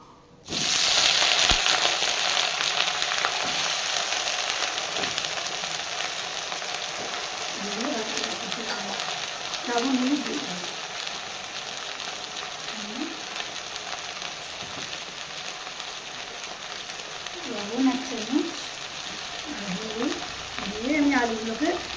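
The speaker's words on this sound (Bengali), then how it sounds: "এই তেজপাতা ফোড়ন দিয়ে দিলাম আর আলুগুলো দিয়ে দিলাম ভাজতে" Potato pieces frying in hot oil with a bay leaf, a loud continuous sizzle heard up close with occasional stirring scrapes, while a voice speaks intermittently over the cooking.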